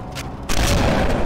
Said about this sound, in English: that shotgun absolutely ruined that